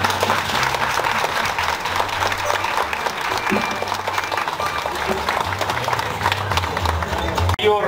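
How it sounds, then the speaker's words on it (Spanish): A crowd at a patron saint festival in La Hincada, Guadalcázar, honoring a traditional dancer gives strong, sustained applause, close and dense, with a voice speaking over the clapping. "un fuerte aplauso para él"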